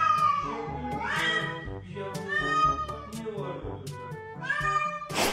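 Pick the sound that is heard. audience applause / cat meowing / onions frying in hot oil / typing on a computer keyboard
cat meowing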